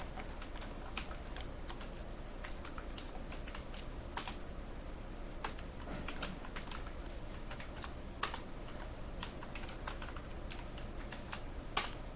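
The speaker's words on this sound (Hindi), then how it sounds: "तो ब्रेक का यूज करने से पहले मैं कुछ चीजें पेज पर लिख लेता हूं।" Continuous quiet typing on a computer keyboard while entering text into MS Word, with rapid, even key clicks and a few slightly louder strokes, close and alone.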